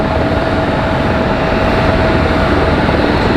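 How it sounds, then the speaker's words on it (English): MD-11 jet engines running at Raleigh-Durham airport, a steady, loud, broadband roar with a low rumble that holds evenly throughout, with no voices. "You guys can hear the MD-11 already?"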